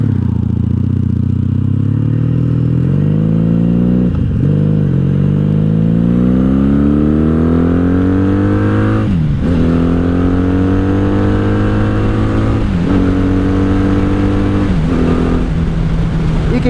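A wrecked-then-restored 1997 Honda Magna 750 VF750C cruiser motorcycle revs and pulls through several gears on a ride, its loud engine pitch climbing and dropping at each shift, close and continuous.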